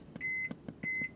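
A coffee maker signals the end of brewing with two short pairs of bright electronic beeps, each pair a long tone between short pulses, heard close and clear in a quiet room.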